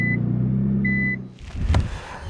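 Two short, high warning beeps sound inside a Nissan GT-R over a steady low engine drone, then a louder rustling, thumping burst follows.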